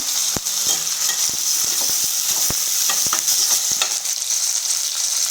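Steady sizzling of vegetables and coriander leaves frying in a hot pan for samba rava upma, with repeated scraping and tapping of a spatula stirring them, continuous and close.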